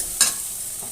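A pan of food frying on a medium-low flame while it is stirred, with a short scrape of the stirring near the start over a steady soft sizzle.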